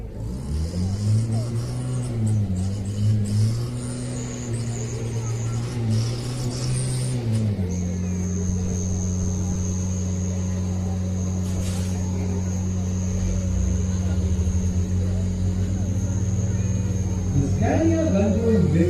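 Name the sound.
Scania gun-towing vehicle towing a Bofors gun moving out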